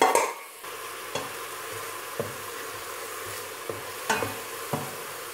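Onions and garlic sweat gently in a pot with a quiet, even sizzle, punctuated by several distinct spoon scrapes and taps at irregular intervals, close up with no talk.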